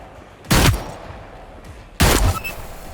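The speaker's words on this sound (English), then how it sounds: "It's a hard-hitting pistol." Two heavy Riot pistol shots boom in the video game Hyperscape, each a loud, punchy blast with a short tail, spaced about one and a half seconds apart over a low background hum.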